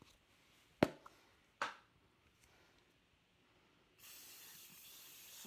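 Cooking spray is spritzed onto chicken for an air fryer in two short sharp hissing bursts, followed by quiet and then a steady faint hiss near the end.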